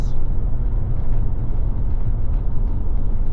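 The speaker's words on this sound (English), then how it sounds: "It's definitely not the loudest Foxbody I've ever heard." Ford Foxbody LX hatchback with a Flowmaster catback exhaust cruising along, a steady low engine and exhaust drone with road rumble filling the cabin, fairly loud and continuous throughout.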